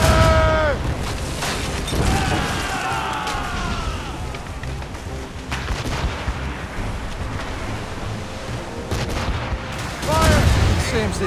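Ship cannons fire in Assassin's Creed Rogue in a few loud, heavy booms spread apart, mixed with battle noise, music and shouting voices.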